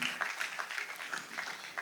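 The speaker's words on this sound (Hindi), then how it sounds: "आइए तालियों के साथ उनका स्वागत करें।" Congregation at a Sunday church service clapping to welcome newcomers: a moderate, fairly quiet spatter of many hands with distinct individual claps, steady throughout.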